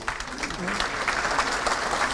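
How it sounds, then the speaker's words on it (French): An audience at a presentation on environmental matters applauds, a dense, continuous patter of many hands clapping at moderate volume throughout the short stretch, with no voices on top. "merci beaucoup, on peut l'applaudir."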